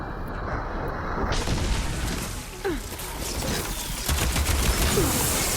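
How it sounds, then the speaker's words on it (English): Ballista shots at a giant worm in Horizon Forbidden West, heavy booming impacts and rumbling amid a dense, loud battle din, with voices calling out during the fight. "Hopefully the Genoa can fire a few shots from that ballista."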